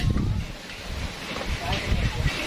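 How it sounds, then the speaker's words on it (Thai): Strong wind blows outdoors at a home-style country kitchen, buffeting the microphone in loud rumbling gusts that rise and fall throughout. "ลมแรงมากครับ ตอนนี้ครับ ไม่รู้ว่าจะทำคลิปรอดหรือเปล่า ลมแรงมาก"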